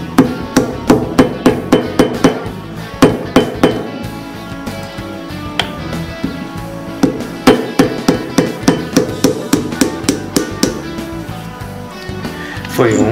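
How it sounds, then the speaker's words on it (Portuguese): Repeated sharp hammer strikes ring out in quick bursts, a hammer driving a nail into a coconut, loud and close with brief pauses between rounds. "a gente pega um prego e dá umas marteladas aqui."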